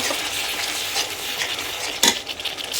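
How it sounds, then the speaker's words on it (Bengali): Spice paste with a splash of water is stirred and fried in a pan, giving a constant close sizzle and scraping stir, with one sharp clank of the utensil near the end. "জল দিয়ে মশলাটা ভালো করে কষিয়ে নেব।"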